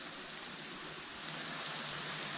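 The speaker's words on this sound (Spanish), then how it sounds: "Lloviendo, sintiendo la lluvia aquí debajo de la selva." Rain falls steadily through jungle foliage over a cenote in Mayakoba, a dense even hiss of drops that swells slightly toward the end, with no one speaking.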